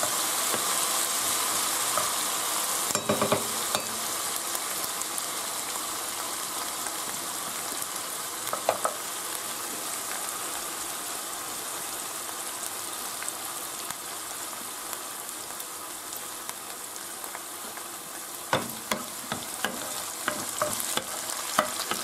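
Ingredients for a spinach dish with rum-soaked raisins, pine nuts and apple sautéing in a hot pan, a continuous soft sizzle with occasional clinks and scrapes of stirring, fairly quiet and close.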